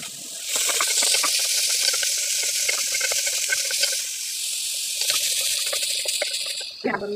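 Onion sizzles in hot oil in a pan, a loud continuous hiss and crackle that swells then settles, ending with a brief clatter.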